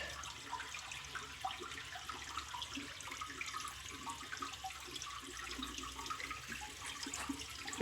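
Steady rushing water with gurgling and trickling throughout as a 1961 Case 1100 Lowboy toilet tank refills after a flush, fairly close with no talking.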